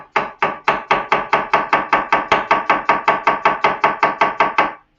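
Knife chopping a vegetable on a cutting board in a fast, steady rhythm of about twenty crisp strikes, close and loud, stopping abruptly near the end.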